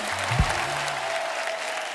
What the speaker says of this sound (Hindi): आप सबकी तालियां ऐसे बजती रहनी चाहिए।